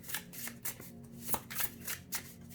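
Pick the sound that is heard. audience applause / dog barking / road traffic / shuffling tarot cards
shuffling tarot cards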